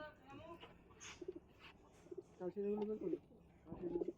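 Pigeons coo softly in short, repeated throaty bursts nearby, with a voice speaking quietly at times.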